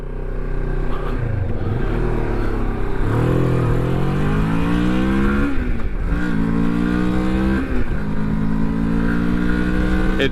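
A Moto Morini X-Cape motorcycle engine accelerates through several gears, its pitch climbing in repeated rising sweeps with brief drops at each shift, heard loud and close over steady wind rush.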